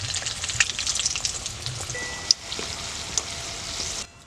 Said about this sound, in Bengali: আমি এক এক করে সিঙ্গারাগুলো দিয়ে দিচ্ছি সিঙ্গারাগুলো একটু লাল লাল করে ভাজতে হবে